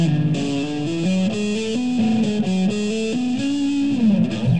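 Electric guitar plays a slow legato lick, with hammer-ons, pull-offs and slides linking the notes smoothly. It sounds alone at a steady, fairly loud level.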